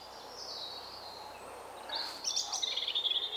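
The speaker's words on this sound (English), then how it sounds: "And not a soul about, just the birds." Birds call outdoors on a quiet dull day, a thin whistled note drawn out at first, then a brighter burst of rapid chirping and trills near the end, moderately close with no voices.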